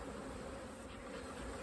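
Honey bees drone steadily around a spring beehive stacked with supers, a dense, continuous close-up buzz with no pauses and no voices.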